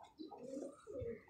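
Large-headed, big-bodied pigeons kept as fancy birds in Karachi give a soft, low coo in two short rolling phrases, faint and close.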